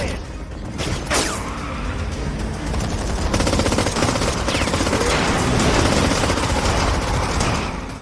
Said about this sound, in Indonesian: Sontak mereka bertiga pun kembali menjadi sasaran tembakan brutal.